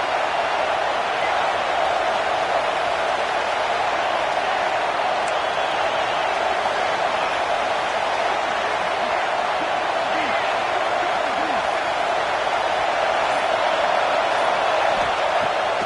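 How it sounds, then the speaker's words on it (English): A football stadium crowd roars for the defense on third down, a steady, unbroken wall of cheering noise that holds throughout. "Decibels rising as the crowd gets behind this defense on third down."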